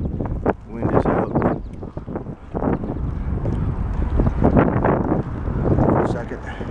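Gusty wind buffets the microphone beside a lake, loud rumbling bursts rising and falling, with a voice speaking over it.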